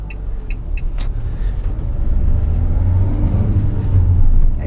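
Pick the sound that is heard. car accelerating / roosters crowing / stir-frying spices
car accelerating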